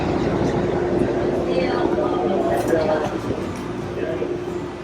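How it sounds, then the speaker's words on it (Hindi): Airport shuttle train to Terminal 1 at a Seoul airport, a continuous rolling rumble with a steady hum inside the car, fairly loud and close, with a person talking over it. "ये है शटल ट्रेन।"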